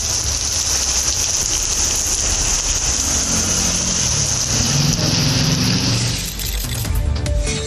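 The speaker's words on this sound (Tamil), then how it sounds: "மயிலாடுதுறை மாவட்டத்தில் இரவு 7 மணிக்கு பிறகு கனமழை கொட்டியது." Heavy rain pours down at night in Mayiladuthurai district, a dense, steady hiss of downpour filling the whole stretch with a low rumble beneath, continuous and loud without pauses.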